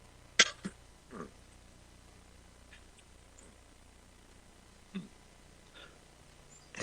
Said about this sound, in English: just clearing his throat